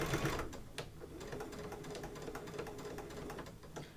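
Embroidery machine sewing green thread, a quick, even mechanical patter of stitching heard fairly quietly and close by, with no voices.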